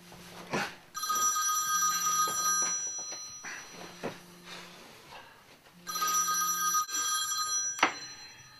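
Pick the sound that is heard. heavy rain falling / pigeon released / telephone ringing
telephone ringing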